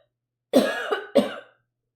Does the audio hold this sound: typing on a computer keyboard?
no